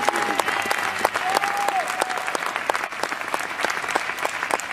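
An audience at a business event in Lyon claps together in a dense, sustained round of applause, with a few louder individual claps standing out near the listener.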